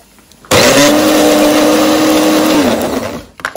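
A kitchen blender loudly grinds tomato paste, red chillies and garlic with a little water, a sudden roaring whir that holds steady for about two seconds, then winds down and stops.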